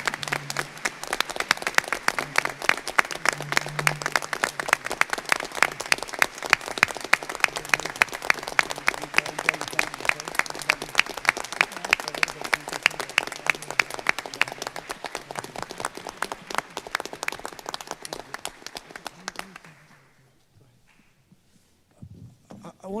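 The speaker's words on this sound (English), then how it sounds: "Let's give him another round of applause." An audience at a board meeting claps in sustained applause for about twenty seconds, a dense, rhythmic patter of many hands that fades out abruptly into near silence.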